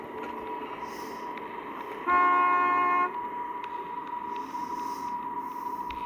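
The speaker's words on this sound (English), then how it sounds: "Even honking doesn't seem to disturb this creature." A car horn honks once in a steady blast of about a second, fairly near, over a constant low background hum.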